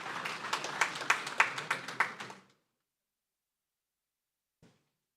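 Brief applause at a governors' forum in Maiduguri, a few seconds of moderate clapping with a handful of sharper individual claps that fades out, then silence apart from one faint knock.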